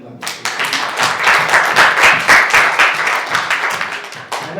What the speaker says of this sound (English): Why don't we give one more clap?